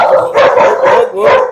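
A household dog barks repeatedly and loudly up close, a run of four or five rough, rhythmic barks in quick succession.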